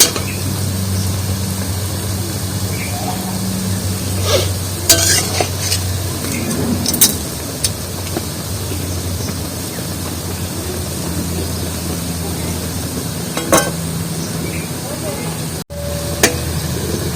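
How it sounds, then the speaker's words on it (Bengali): Palm fruit fritters deep-fry in hot oil with a constant, fairly loud bubbling hiss, punctuated by occasional scraping and clinks of a strainer or spatula, and no talk over it. "তালের বড়াগুলো কিন্তু দারুণ একটা ফুলেছে। আর একটু লাল লাল করে ভেজে নেবো"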